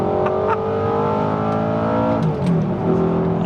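An Audi R8 with a titanium exhaust revving hard in second gear, a loud sustained engine roar with rising pitch and a brief dip as the revs shift, close to the car.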